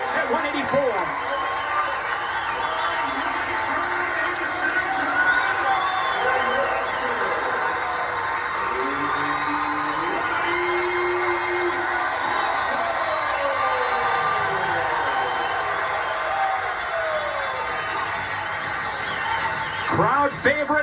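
A college wrestling crowd at a Nebraska versus Iowa dual meet rises to its feet, producing a steady, dense roar of cheering and shouting that holds for the whole stretch, with a few sharper bursts at the end.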